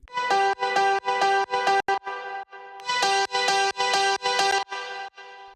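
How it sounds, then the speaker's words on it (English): Bright, plucky layered piano lead chords for progressive house play in short rhythmic stabs with brief gaps, with a crisp, clicky top end boosted by EQ and OTT compression, and no voices. "That was the piano lead"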